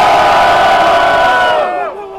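Loud, sustained cheering and shouting from a crowd at a Botafogo rap battle for a rapper, holding steady before tapering off near the end.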